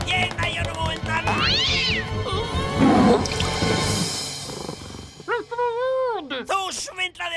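A cartoon cat in a Smurfs episode gives a series of loud, drawn-out meows and a caterwauling yowl, with a few shorter rising-and-falling meows near the end, mixed with voices and background sound effects.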